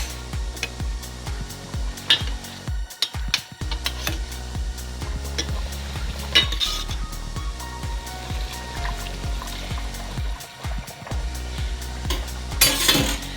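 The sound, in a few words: stirring potatoes into chicken curry in a pot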